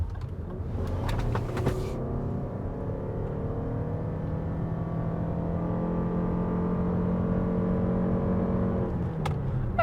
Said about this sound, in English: I'm gonna put my foot on the gas and go now though